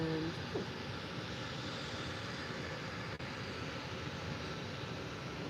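An airliner taxis at Faro Airport, a steady distant jet engine rumble and roar that stays constant throughout with no talk over it.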